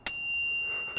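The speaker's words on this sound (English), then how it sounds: "I do love these crane bells." A single bright ding from a Japanese brass crane bicycle bell on a handlebar, a sharp strike followed by a clear ringing tone that decays slowly, with a faint rustle at the end.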